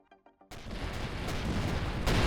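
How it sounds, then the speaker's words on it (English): In the space game Avorion, a few faint ticks give way to a sudden heavy blast of cannon fire and explosions, then a dense rumbling barrage that builds to a second loud burst near the end. "I think there's someone targeting your shields with, like, a cannon round"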